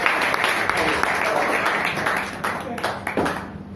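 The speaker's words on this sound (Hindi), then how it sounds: "मैं राजेश जैन राही जी को जोरदार तालियों से आमंत्रित करता हूं" Applause greets a poet arriving at a Hindi poetry gathering; a crowd claps steadily throughout, moderately loud and fading slightly toward the end, with some voices mixed in.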